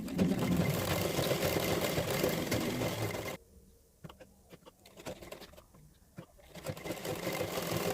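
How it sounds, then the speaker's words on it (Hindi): A sewing machine stitches the lining of a size 34 blouse with four tucks. It runs loud and steady for about three seconds, then stops, leaving quieter scattered taps and a few short bursts. "ऊपर साइड हम इस तरीके से एक सिलाई लगा रहे हैं"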